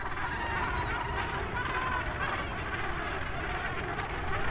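A dense gannet breeding colony calls continuously, a thick wall of harsh overlapping squawks and honks at steady loudness with no pauses.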